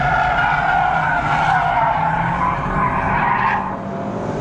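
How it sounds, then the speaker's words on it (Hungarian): A loud, continuous squeal of tires skidding as a light car drifts on a track, with the engine roaring underneath throughout. "Milyen szépen pontcsúszásban tartja."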